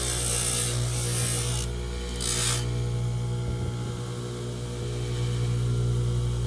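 A dental grinder whirs steadily while grinding denture wax, a continuous mechanical hum with rasping bursts in the first few seconds.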